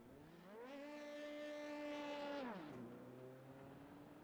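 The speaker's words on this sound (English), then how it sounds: "I love the way these cars sound." Race car engine in the iRacing game at the Hungaroring circuit, a single car revving hard and rising in pitch, holding a loud high whine, then dropping sharply as it shifts down and settles to a lower drone.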